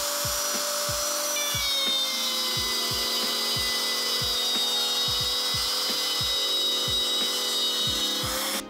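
A wood router guided by a template cuts a groove in wood, a loud sustained high motor whine with steady tonal harmonics, broken by repeated brief dips as the cut loads the bit, close up with no talking.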